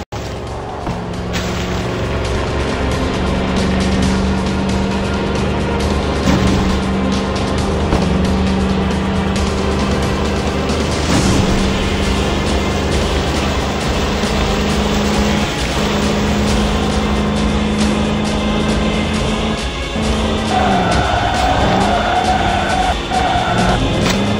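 A car engine drones steadily and loudly throughout a driving sequence in the zombie video game Road of the Dead 2, holding a constant tone with small shifts in pitch as the vehicle keeps moving.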